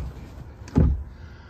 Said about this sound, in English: So what I'll do now is I'll open up the back door.